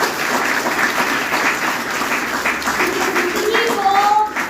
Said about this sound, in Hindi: एक बार तालियां अपने लिए।